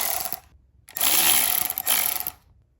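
Ratchet wrench backing out 10 mm bolts on a Honda VTEC solenoid, close and loud, with quick bursts of rapid clicking separated by short silent pauses.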